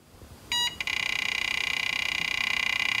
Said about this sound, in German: Er piepst einmal und zeigt jetzt, dass er am Arbeiten ist.